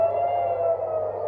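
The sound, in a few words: air raid sirens in Tel Aviv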